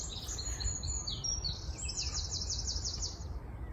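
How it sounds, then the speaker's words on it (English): Birdsong at an allotment plot in early April comes as faint chirps and high warbling phrases over soft outdoor background noise, with no voices. "What a lovely bird song, thank you."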